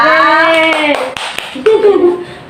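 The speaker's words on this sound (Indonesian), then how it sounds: "Tepuk tangan" A few scattered hand claps ring out over a voice talking, brief and sparse rather than sustained applause.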